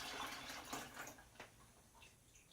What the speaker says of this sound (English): So I'm just going to take the water and just dump it into here.